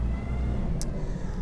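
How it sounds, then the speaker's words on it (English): A garbage or recycling truck rumbles steadily behind the speaker, a continuous low engine drone with a brief higher-pitched squeal partway through. "That's the garbage truck behind me, or the recycling truck."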